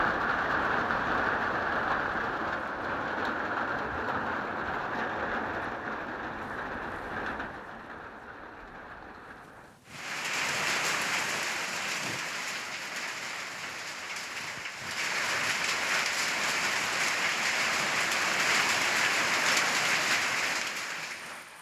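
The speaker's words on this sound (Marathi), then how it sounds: "पाऊस बरसला आणि यावेळी शेतातनं पाणी वाहताना सुद्धा दिसलं।" Unseasonal rain pours over farm fields in Maharashtra, with water running across the fields, making a steady broadband hiss that briefly dips and then returns fuller and brighter for the rest of the stretch, with no voices.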